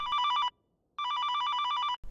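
A telephone bell rings in two bursts of rapid trilling, clear and close, with a short silent pause between them.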